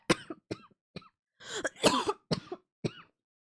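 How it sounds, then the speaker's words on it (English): A series of about eight short, sharp coughs, some clustered in a harsh burst in the middle, close and loud with quiet gaps between. "the cough is not getting better"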